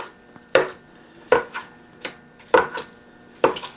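Chopping on a hot pan while cooking Italian bean soup, with five loud, sharp, close strikes at uneven intervals and faint clatter between them, no talking.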